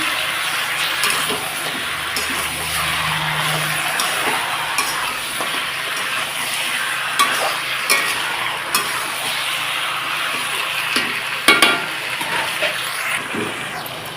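Chicken pieces frying with chilli powder in a pan, a loud continuous sizzle with frequent stirring scrapes and clinks of a spoon against the pot throughout.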